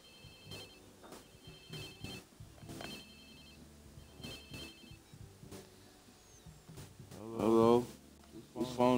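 A phone rings in Watch Dogs 2 gameplay, repeating electronic ring bursts in a steady pattern, with a character's voice briefly speaking near the end.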